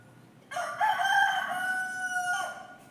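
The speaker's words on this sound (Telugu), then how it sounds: "ఆ రెండు కోళ్ళు కమ్యూనికేట్ చేస్తుంది." A rooster crows one long, loud cock-a-doodle-doo nearby, rising then holding before cutting off, against a faint, quiet background.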